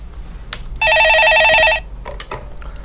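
A telephone rings once for an incoming call on a radio stock-market call-in show, a loud electronic trill lasting about a second, with faint background noise around it.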